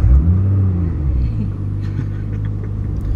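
A 600bhp Nissan GT-R engine rumbles low and close at the start of a drive, a deep steady drone that swells briefly then settles into a constant hum.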